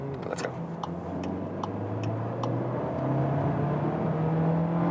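A 2021 Skoda Octavia pulls hard in second gear from 40 to 80 km/h, its engine note climbing steadily in pitch and loudness, with a few light ticking clicks early on.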